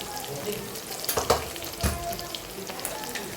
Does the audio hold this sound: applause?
no